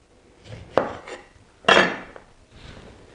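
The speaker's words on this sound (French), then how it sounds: "je coupe comme ceci la peau" A knife slicing the peel off an orange on a board, giving two sharp, close cuts with soft scraping between them and no talk.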